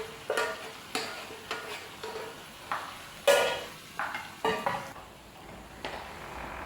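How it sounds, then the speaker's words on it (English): A spoon stirs soft cooked beans in sauce in a pot, making a series of wet scraping strokes roughly every half second, close and moderately loud, with a faint sizzle underneath. "So I will stir that and allow that to cook"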